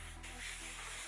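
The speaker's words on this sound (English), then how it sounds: "I'm gonna spray at least 6 inches away." Cleaner sprayed onto a luxury bag, a short close hissing spray burst over a faint low hum.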